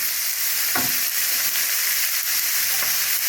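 Spicy stir-fried eel sizzles loudly in a hot pan over high heat, a dense, continuous frying hiss broken by a few scraping strokes of the spatula stirring it, up close with no talking.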